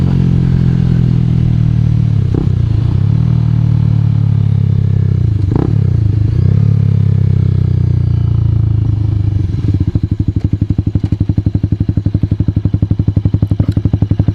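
A Honda CBR motorcycle riding, its engine droning loud and steady with pitch swells as it revs, turning to a rough, pulsing note toward the end.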